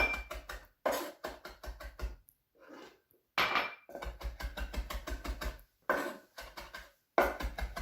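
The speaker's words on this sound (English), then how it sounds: "Now that we're finished peeling and dicing and chopping things" A knife chops vegetables and herbs on a board while preparing a Moroccan chicken tagine: quick runs of sharp, close knocks come in bursts separated by short pauses, with no talking.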